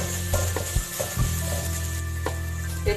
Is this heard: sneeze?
no